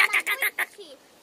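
A kookaburra at a kangaroo park in Israel gives its laughing call, a quick run of loud, harsh cackling bursts close by, trailing off into fainter notes.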